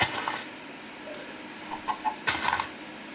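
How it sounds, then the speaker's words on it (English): A chicken clucking in the Minecraft video game, a few short scattered clucks over a steady background hiss with brief clicking game noises, no talk during it. "We're gonna trap this chicken."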